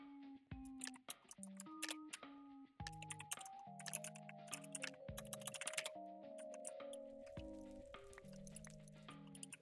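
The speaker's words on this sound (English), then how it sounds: "I like the Animal Crossing, like typing, like talking." Animal Crossing-style typing sound effect, a rapid stream of short pitched blips in shifting tones that chatter like babbled speech, heard alone and close up with no real voices.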